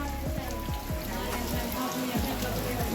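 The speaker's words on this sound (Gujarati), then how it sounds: "વરસાદ આવ્યો છે" Rain shower falling outdoors, a dense steady patter of drops on surfaces, close and continuous, with some faint background thuds and no clear talk.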